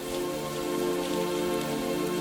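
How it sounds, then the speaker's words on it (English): Heavy rain spatters steadily on a cabin roof, a dense continuous hiss with constant drumming drops and no break, loud and close throughout. "The first heavy drops of rain began to spatter against the roof."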